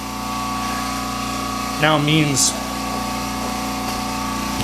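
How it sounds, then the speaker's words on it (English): A vacuum pump runs on a Onefinity CNC machine's spoil board, holding a steady drone with constant hum tones throughout, while someone speaks briefly over it partway through. "Turning on the vacuum pump and letting it run for just a second"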